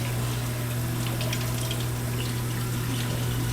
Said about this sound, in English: So right now all I'm doing is I'm rinsing my potato peels.